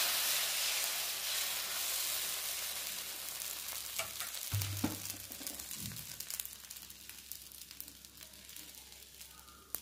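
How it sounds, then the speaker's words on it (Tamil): Kali kanji dosa batter sizzling and frying on a hot pan, a steady close hiss running throughout with a brief stir or scrape partway through, no voices. "தோசை கொஞ்ச நேரம் வேகட்டும்."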